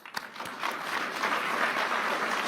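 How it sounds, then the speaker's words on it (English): Audience applause at the 2025 World Economic Forum for Argentina's President Javier Milei: a dense, steady wash of many hands clapping that swells slightly after the first half-second and holds at an even level with no talk over it. "I think the President really should get an applause for that."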